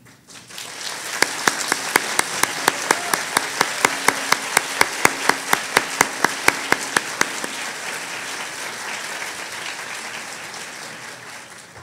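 An audience at a teaching conference breaks into loud, sustained applause for first-time speakers, with a few sharp rhythmic claps standing out before the clapping thins into a dense, fading patter.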